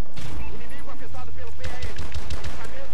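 Rapid bursts of loud gunfire crackle in quick succession, dense and close, with electronic game effects mixed in, from Call of Duty: Advanced Warfare.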